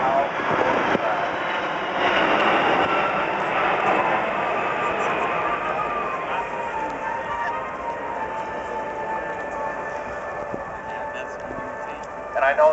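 A Royal Canadian Air Force Boeing C-17 Globemaster at the Toronto air show roars steadily overhead as a loud, broad jet rumble, with a commentator speaking over the engine noise.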